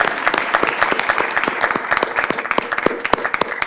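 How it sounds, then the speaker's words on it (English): Audience applause at a county commissioners business meeting: sustained, brisk clapping from a gathered room, close and loud, with no voices over it. "Let's give her a round of applause."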